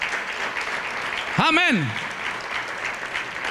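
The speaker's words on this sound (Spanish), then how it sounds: "De un aplauso al Señor si lo quieren." Congregation applauding in a church, a steady wash of clapping throughout, with a sung or chanted voice briefly rising over it midway.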